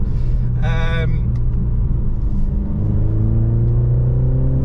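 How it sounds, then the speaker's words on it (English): A 2022 BMW Z4 sDrive 2.0 hums and rises in pitch as it accelerates, its synthetic engine sound a smooth droning tone with a brief higher whine near the start. "once you accelerate, it gives you more of that synthetic sound"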